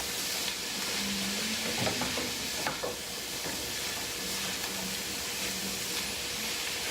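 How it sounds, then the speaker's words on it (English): Cauliflower fried rice being stirred in a hot pan, with a steady sizzle and occasional scraping and clinking of the utensil against the pan, close and continuous with no talking. "And you can stir that in."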